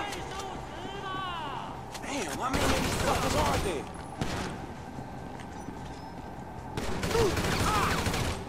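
Gunfire crackles in Grand Theft Auto V on PS3 in bursts of rapid shots with game effects, while someone shouts excitedly over it.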